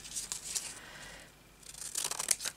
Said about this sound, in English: So I'm going to cut this up